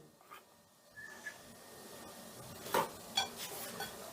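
A spice mix of sour yogurt with turmeric, cumin, fennel and coriander powders is stirred in a bowl, giving a few soft scrapes and clinks of a spoon against the bowl over a quiet background.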